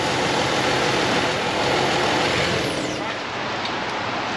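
A car engine runs steadily at idle during a radiator and engine oil check, a broad continuous rumble that carries on close by without any spoken words.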